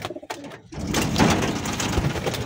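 Recessive red pigeons cooing close by in a loft, with soft repeated coos and rustling continuing steadily after a brief quieter moment at the start.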